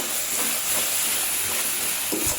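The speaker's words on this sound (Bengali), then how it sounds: "আদা রসুন দিয়ে ভালো করে ভেজে নেব।" Ginger and garlic frying in a pan of browned onions, a steady close sizzle and hiss that runs unbroken, with faint stirring scrapes near the end.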